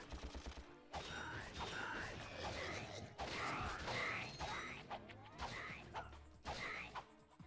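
Wrench swung in Ratchet and Clank smashing crates, a series of loud mechanical cracks and crashes in bursts over a busy game soundscape.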